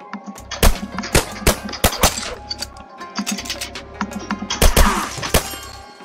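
Pistol gunfire in the Roblox game Anime Tycoon: a string of sharp, close shots fired in irregular bursts over a low electronic background hum.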